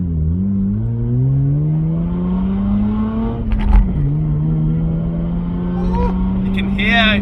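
A Mazda RX-8 rated at 231 bhp pulls away from a standstill in first gear, its rotary engine note climbing steadily in pitch, then dropping sharply at a gear change before rising again, loud and close.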